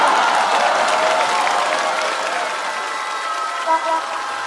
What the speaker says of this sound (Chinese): 我们需要再次以热烈的掌声先来祝贺一下阎鹤祥先生